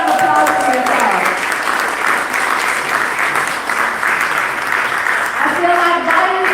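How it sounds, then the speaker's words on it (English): Sustained audience applause fills a community forum on environmental issues, dense and steady throughout, with a voice briefly speaking over it at the start and again near the end. "So give another round of applause for yourselves."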